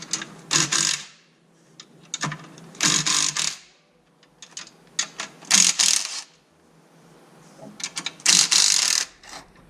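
Ratchet loosening 11 mm 12-point bolts on the clutch pressure plate of an abused, high-boost LS1 engine, giving four bursts of rapid clicking with short pauses between them, close and fairly loud, no talking.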